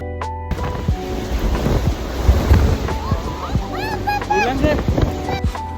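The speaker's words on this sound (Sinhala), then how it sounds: "පේනවනේ තියෙන හුළඟ" Strong wind sweeps over a mountain trail at Mandaram Nuwara, buffeting and roaring in uneven gusts close by while people talk through it.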